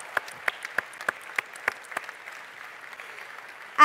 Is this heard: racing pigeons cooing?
no